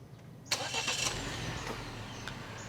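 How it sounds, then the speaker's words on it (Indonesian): A Wuling Almaz RS 2021 engine starts with a sharp crank burst, then settles into a steady, fairly quiet idle hum heard from nearby. "sekarang kita nyalakan mesinnya"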